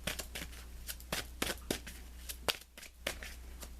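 Tarot cards being shuffled up close, a quiet run of crisp riffling bursts and soft flicks spread across the moment.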